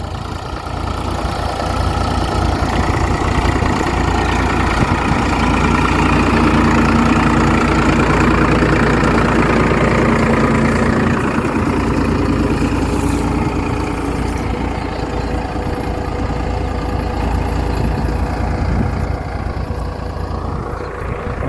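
A tractor engine runs continuously close by, a heavy rumbling drone with a faint rattling knock that stays loud and unbroken throughout.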